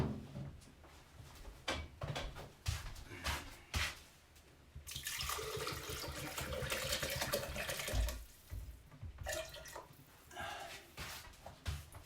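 Water runs from a tap in uneven bursts, splashing and gurgling at close range amid soft handling knocks, with a louder steady flow in the middle.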